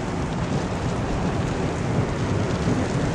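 Heavy rain pours steadily with a deep rumble of thunder underneath, a dense, continuous tornado-producing storm roar in Allison, Texas.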